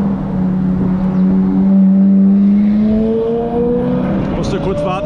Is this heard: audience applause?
no